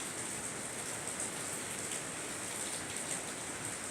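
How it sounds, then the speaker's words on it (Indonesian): Steady rain falls outdoors, a constant dense hiss of drops on surfaces with no breaks and no voices, moderately quiet and even throughout. "ini masih hujan."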